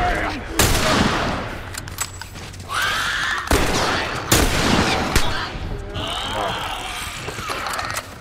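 Gunfire in The Last of Us, a video game, with bursts of rapid shots and loud single reports cracking over a tense firefight while voices shout in between.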